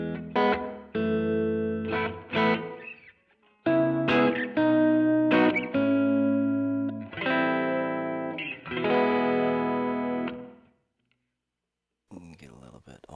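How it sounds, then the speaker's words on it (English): Electric guitar chords ring through a Vongon Ultrasheer stereo reverb pedal with the mix turned up, each strum trailing into a shimmering wash; several chords in a row, then a pause and a brief burst of noise. "Here's the reverb."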